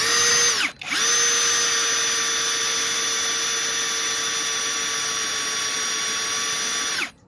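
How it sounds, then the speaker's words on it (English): A power drill bores into aluminium during a bifold door repair: a loud, steady high-pitched whine that starts, cuts out briefly, then runs for about six seconds before spinning down, with no other sound. "aluminium is so easy to drill"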